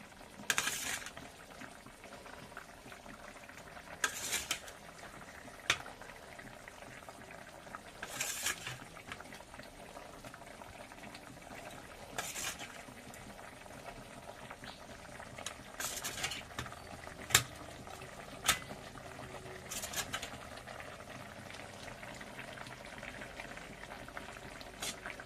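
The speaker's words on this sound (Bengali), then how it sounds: "আলুর ঝোলটা ফুটে উঠেছে" Potato curry bubbling steadily in a pot on the stove, a continuous low simmer broken by occasional brief clinks and stirring sounds, with no one talking.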